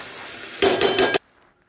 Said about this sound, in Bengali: এবার আমি ভালো করে সব মিক্স করে নিচ্ছি। চালগুলো একটু ভাজা ভাজা করে নিতে হবে।